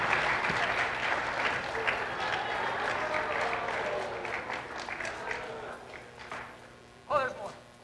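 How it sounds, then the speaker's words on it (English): Sports banquet crowd applauds teachers and coaches with sustained, fairly loud clapping that thins out toward the end, mixed with voices and cheering, and a brief shout near the close. "Applause for the teachers and coaches."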